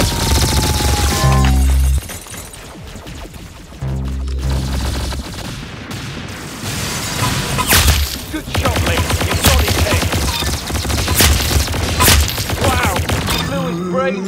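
Gunfire in the Roblox shooter game Arsenal: loud, close bursts of rapid shots and sharp booming blasts in quick succession, with brief pauses between volleys and no talk.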